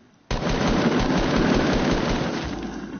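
A long, loud stream of rapid shots from a shooter video game kicks in abruptly and continues steadily for nearly three seconds, close and without talk.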